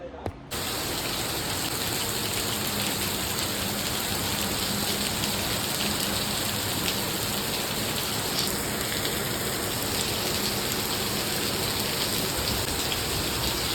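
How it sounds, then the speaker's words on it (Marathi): Heavy rain pouring down steadily, a dense, loud, unbroken hiss of drops hitting surfaces that holds for the whole stretch with no gaps. "पाऊस वगैरे भरपूर पडत होता"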